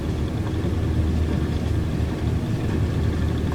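Aircraft engines run near full throttle during a takeoff roll on a flight around Chicago, heard from inside as a loud, steady, unbroken roar with no letup and no voices.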